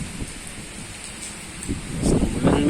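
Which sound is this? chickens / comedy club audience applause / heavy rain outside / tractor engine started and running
heavy rain outside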